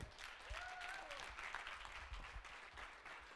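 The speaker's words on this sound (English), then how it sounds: "Can we have a round of applause for these guys?" An audience at an academic conference session gives steady applause for performers, with a faint voice over the clapping.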